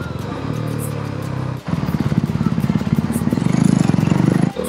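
Motorcycle engines roar steadily nearby, with a brief dip before the pulsing rumble resumes and grows louder.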